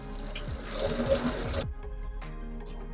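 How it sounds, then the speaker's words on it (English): Scalding hot bleach water is sucked through a hose at a sink, giving a gurgling, rushing flow with rhythmic pulsing that cuts off abruptly, followed by a couple of brief splutters. "we're sucking out that scalding hot bleach water"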